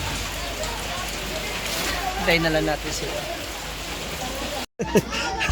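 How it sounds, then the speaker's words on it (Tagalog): Heavy rain pours down in a continuous close hiss with spattering drops on surfaces while people talk over it; the sound cuts out briefly near the end. "Lumakas na naman ang ulan."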